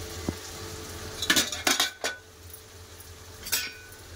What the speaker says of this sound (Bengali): এবার চাপাটা খুলে দেখে নেবো